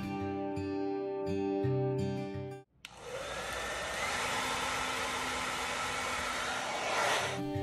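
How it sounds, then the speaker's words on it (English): An ordinary hair dryer heats the display of an iPhone 12 during a teardown, switching on after a moment of tonal background into a steady, close, loud whooshing rush of air that holds for several seconds. "warm up the surface even with an ordinary hairdryer for 3 minutes at temperature of 70 degrees Celsius"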